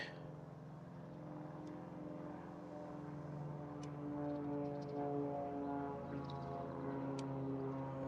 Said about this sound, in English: And I hear the planes.